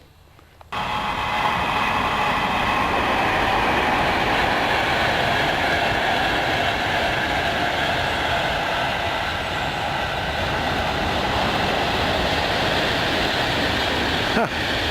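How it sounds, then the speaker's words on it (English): A Virgin passenger train heading for London rushes past close by, a loud continuous roar with rhythmic wheel clatter starting abruptly and holding steady for its whole length. "I said you'd see another train. That's a Virgin train heading for London."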